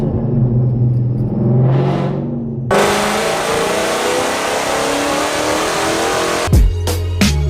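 A car engine with a VMP Gen3R supercharger revs up and falls back, then roars loudly at high rpm for several seconds before cutting off abruptly.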